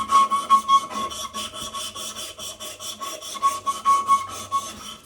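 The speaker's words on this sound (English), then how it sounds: "using this little strip of sandpaper, I can give this a floss too" A strip of sandpaper is drawn back and forth around a wooden sword handle, producing quick, even rasping strokes, about four per second, close and steady with no talking.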